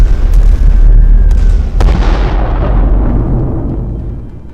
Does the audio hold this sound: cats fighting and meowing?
no